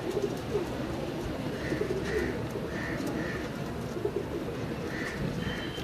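Domestic pigeons coo softly in a series of low, rounded calls, several repeating phrases over a steady background hum with no speech.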